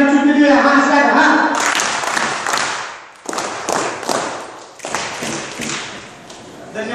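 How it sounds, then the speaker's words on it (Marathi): An audience performs a clap-laddoo-snap rhythm at a poetry event, with loud group claps and thumps in a few bursts after a leader's spoken count-in. "सरांसाठी आपण टाळी लाडू चुटकी देऊया."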